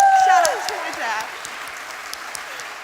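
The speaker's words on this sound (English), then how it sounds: "let's give a massive cheer to everyone watching the live stream from home" A crowd at a college arts awards ceremony breaks into applause and cheering, taking over as a voice fades at the start, then settling into a steady wash of clapping.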